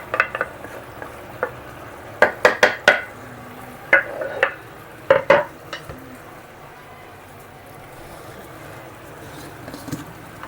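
Garlic and onion go into a hot pan while lamb is being slow-cooked. A steady low sizzle of frying runs under a quick cluster of sharp clinks and scrapes from stirring in the pan. No one talks.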